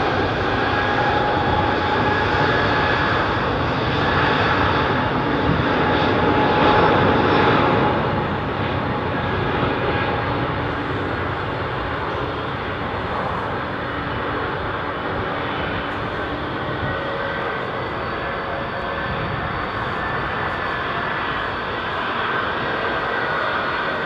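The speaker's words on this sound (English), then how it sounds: "get ready to hear this thing spool. 777 now moving into position." A Boeing 777 moves into position at London Heathrow, its engines holding a steady, continuous whine and rumble that swells slightly early on, then settles into an even, sustained drone.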